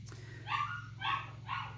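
A small puppy penned outside near running farm machinery barks three times in a steady rhythm, each bark clear and moderately loud against a low mechanical hum.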